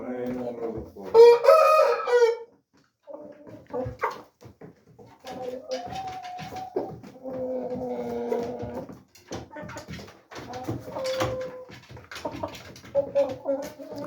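A rooster crows loudly nearby in one long burst. Clucking, a short bark and people talking on and off follow it.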